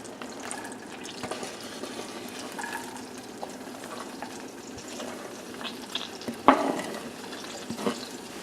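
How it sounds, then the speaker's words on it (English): Chopped onion sautes in melted butter in a pan, a low steady sizzle with soft stirring scrapes and a brief louder clatter near the end, close and continuous. "Now that the butter has melted, add in your chopped onion"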